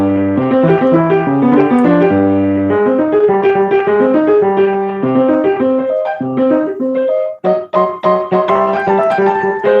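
Lively ragtime piano from Scott Joplin's "The Entertainer" with a bouncing bass line under a busy melody, both hands playing together, close and bright.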